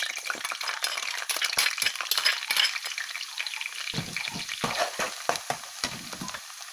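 Garlic frying in hot oil for chili oil, a loud crackling sizzle full of rapid pops and spatters, with occasional scrapes of a large ladle stirring through it.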